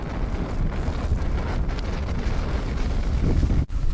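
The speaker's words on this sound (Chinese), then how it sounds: "外面实在太大风了，这个窗子被我关上了，但是车子还在不停的晃动。" Strong wind buffets a small camper van parked in the open countryside, producing a dense, constant roaring rush with gusty thumps, heard close from inside the vehicle.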